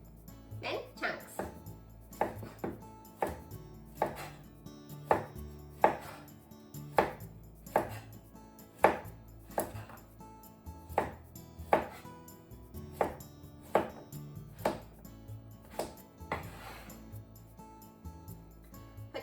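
A kitchen knife chops a carrot into chunks on a cutting board, delivering a steady series of sharp, close knocks at a regular rhythm, about one every second.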